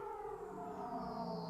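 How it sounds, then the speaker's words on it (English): A sci-fi radio drama sound effect of someone moving into the fourth dimension: a sustained electronic whooshing tone with a rising, siren-like wail, smooth and continuous, steady in loudness for a brief moment. "That is the sound of someone moving into the fourth dimension."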